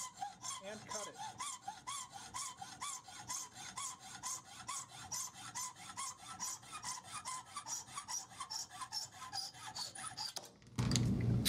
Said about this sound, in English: Lightly press back and forth to get it started. Don't push too hard or you'll bend the axle.